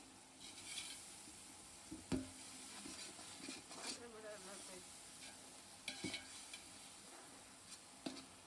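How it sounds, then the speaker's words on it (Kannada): Chicken biryani masala with ginger garlic paste frying in oil in a pan, a soft continuous sizzle broken by occasional sharp scrapes and clinks of a spoon stirring against the pot. "ಸೊ ಇದೆಲ್ಲ ಒಂದ್ಸಲ ನೀಟಾಗಿ ಮಿಕ್ಸ್ ಮಾಡಿಕೊಂಡು ಸ್ವಲ್ಪ ಫ್ರೈ ಆಗೋಕ್ಕೆ ಬಿಡೋಣ."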